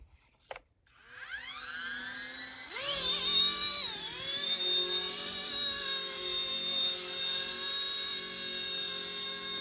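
An RC ERA C184 MD500 model helicopter spools up from a rising whine to a steady high-pitched buzz of motor and rotor, continuous and close for several seconds with no voices.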